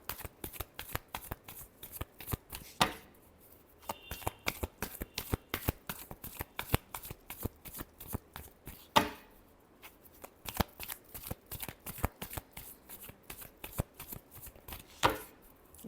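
Tarot cards shuffled by hand in a steady run of crisp riffling flicks, close and fairly loud, with a few brief pauses and louder bursts where the deck is bridged; no talking.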